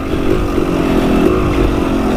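A dirt bike engine revs close by in a steady, buzzing drone with slight rises and dips in throttle, continuous for a couple of seconds.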